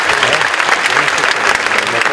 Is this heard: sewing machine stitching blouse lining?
no